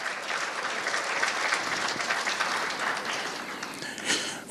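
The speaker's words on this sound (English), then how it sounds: "Congratulations once again, Mr. Spoo Gule. Round of applause." Applause from an audience at an awards-style event fills the room steadily, many hands clapping densely throughout with no break and a slight swell near the end.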